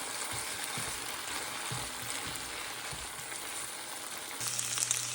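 Frozen okra frying uncovered in a pan over a medium flame, a steady soft sizzle with faint occasional stirring taps, quiet and continuous throughout.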